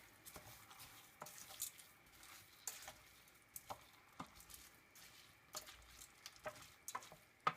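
Rice for a pumpkin risotto being stirred in a pan, soft irregular scraping and clicking of a utensil over a faint sizzle, quiet and close.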